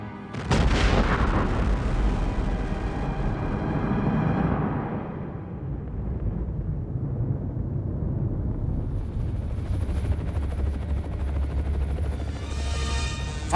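An atom bomb test explosion produces a sudden deep blast followed by a long, loud rumbling roar that slowly rolls and fades across open ground, heard alone without talk.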